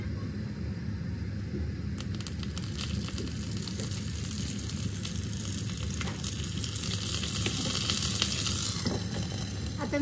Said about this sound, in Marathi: मस्त तेलामध्ये खरपूस असं वाफेवरती त्याला शिजून घेणार आहे